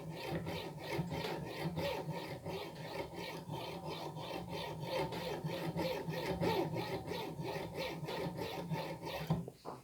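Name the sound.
hand sawing a piece of metal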